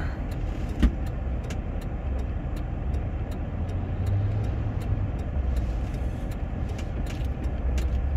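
A car driving toward Corto Madero on a Sunday afternoon, with a steady low road and engine rumble throughout and faint ticking and rattling inside the cabin.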